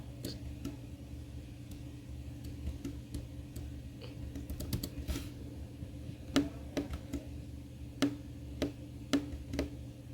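Typing on a computer keyboard while testing a remixed 8-bit game, with scattered soft keystrokes over a steady background hum, then several sharper, louder key presses spaced about a second apart near the end.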